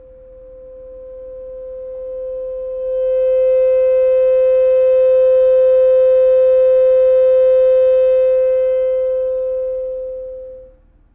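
A steady pure tone from a speaker, used to make a drinking glass resonate, rises in loudness after a few seconds, holds evenly and then fades away, alone with no voices.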